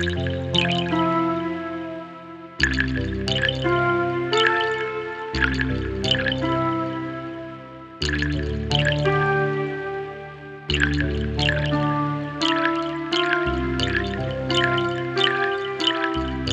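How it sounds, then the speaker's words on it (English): Heavyocity Mosaic Tape sound library playing a tonal, pad-like texture with watery, dripping plinks like pebbles dropping into water, layered over sustained chords that restart in loud phrases every few seconds, with no talking. "It did sound like pebbles in the water, didn't it?"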